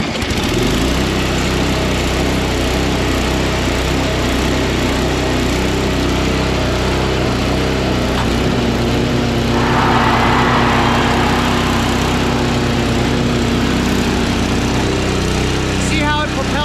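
A Craftsman 522 push snowblower with a Tecumseh engine runs steadily close by, a loud continuous rumbling drone with a brief rise in intensity midway, and a voice talks briefly over it.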